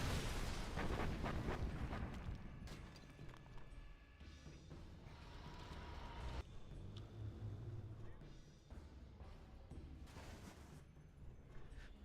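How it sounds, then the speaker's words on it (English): Artillery barrage in a real-time strategy game, a run of heavy booms and rumbling blasts that start dense and loud, then keep thudding irregularly at a steady level through the rest. "Artillery carpet from BoYcaH."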